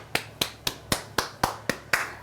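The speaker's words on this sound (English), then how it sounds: "Give yourselves a round of applause," Eight sharp, evenly spaced hand claps or snaps ring out alone at close range, about one every quarter second, with no talking.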